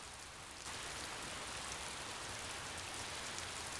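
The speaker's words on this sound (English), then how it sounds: "Rain poured down their faces." Steady, dense rain falling in the Hakuoki video game, a continuous hiss that swells in suddenly after a brief quieter start and then holds at an even level, with no voices.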